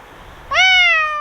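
A snow Bengal cat named Jonesy lets out a single loud, clear meow up close, rising then drawn out and slowly fading after a moment of near quiet.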